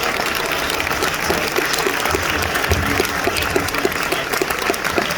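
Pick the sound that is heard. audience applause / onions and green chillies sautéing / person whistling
audience applause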